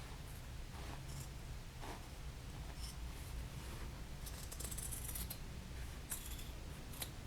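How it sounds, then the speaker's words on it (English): Scissors cutting fabric for a handmade Halloween bag, faint close snips and rustling at low level, with no talk. "I'm gonna get my scissors"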